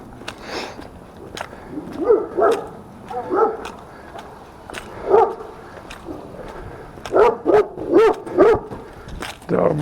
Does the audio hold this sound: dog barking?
yes